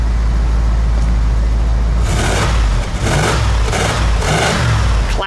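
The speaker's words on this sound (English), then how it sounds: "Go ahead, give it a rev." A 1967 Ford Thunderbird's 390 V8 engine with dual exhaust idles with a deep rumble, then revs up loudly four or five times in quick succession, each rev rising and falling.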